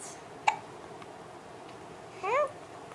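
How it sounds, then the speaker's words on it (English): A baby gives a single short, sharp hiccup, followed a couple of seconds later by a brief high squeaky vocal sound, close by in a quiet room. "You got the hiccups."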